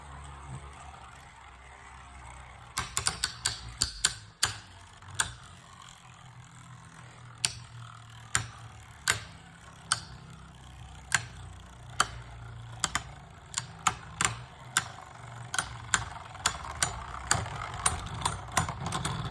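Beyblade Burst tops, Draciel S and Guard Draciel, spinning in a stadium: a steady whir under a long run of sharp, irregular clicks and clacks as the tops collide, close by, with no talk.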